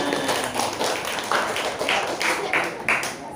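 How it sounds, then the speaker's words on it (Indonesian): A classroom of students clapping for classmates who presented in an Islamic jurisprudence lesson: a short, uneven patter of hand claps at moderate distance, with a few sharper individual claps standing out and faint voices underneath. "tepuk tangan untuk yang maju di depan"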